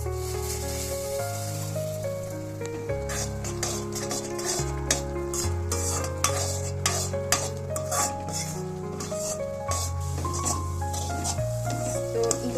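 Semolina being stirred into milk cooked down to a thick khoa-like mass in a pan for a sweet bhujia, with steady scraping and stirring strokes up close under soft background music.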